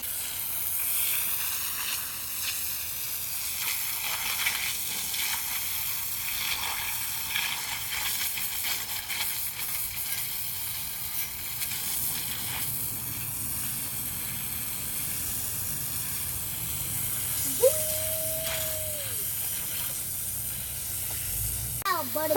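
Hose spray of water while cleaning a porch, a steady close hiss running throughout, with brief clatters and a short whistle-like tone near the end.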